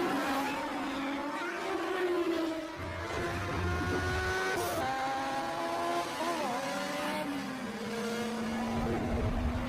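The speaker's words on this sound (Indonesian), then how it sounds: "memanaskan mesin mobil dan siap-siap memulai startnya" Race car engines rev and drone steadily through a movie street race, a continuous loud mechanical whine with rising and falling pitch sweeps, several cars together and close.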